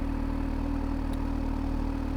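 A motorcycle engine idles steadily on a cold 2°C day, a close, even low-pitched thrum with a regular pulsing rhythm and no talk.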